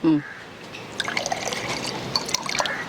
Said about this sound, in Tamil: இதில் கொஞ்சம் தண்ணி விடுங்க.